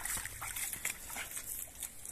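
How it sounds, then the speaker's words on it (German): A brook running full of water: faint, close trickling and splashing with small irregular bursts over a quiet background, no talking. "Ach, ist das schön, wenn der Bach läuft."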